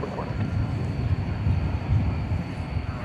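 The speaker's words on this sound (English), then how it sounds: "There's a CRJ 701ER coming in from, where was that coming in from? McAllen, Texas" A CRJ 701ER airliner arriving at DFW Airport, a broad steady roar of jet noise with wind buffeting on the microphone, heard at a distance under faint background sound.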